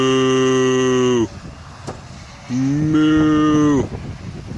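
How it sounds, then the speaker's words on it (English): Cows in a field give two long, loud, drawn-out moos, each over a second long, with a quiet gap of outdoor background between them. "but we got cows over there."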